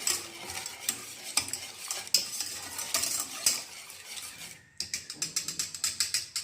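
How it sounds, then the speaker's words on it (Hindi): A kilogram of washed chicken is stirred in a bowl with its marinade. A spoon scrapes and clinks against the bowl in wet, churning strokes, ending in a quick series of rhythmic taps. "और इसे अच्छी तरह मिक्स करेंगे।"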